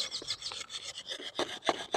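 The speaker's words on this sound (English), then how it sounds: "rotate round on that sharpening stone with the angle, and hopefully you can see that I'm actually just sharpening away" Secateurs being sharpened on a sharpening stone, a quick series of close, gritty rasping strokes in an uneven rhythm, with no talk.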